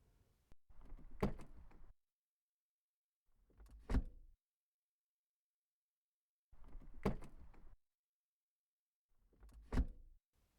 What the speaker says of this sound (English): May I open the door for you?